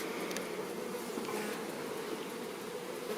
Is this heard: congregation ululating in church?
no